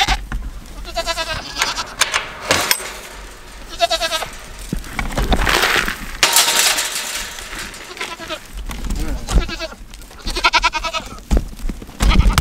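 Goats in a pasture bleat loudly and close by, with many overlapping, wavering calls repeating throughout.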